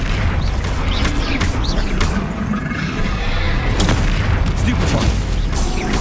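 Bombarda blasting spell from the Hogwarts Legacy video game, several sharp booming blasts through a dense, continuous battle din, loud and close, with crackling bursts near the middle.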